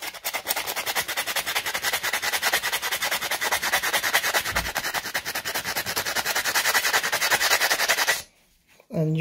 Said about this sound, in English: I'm just going to use some sandpaper here.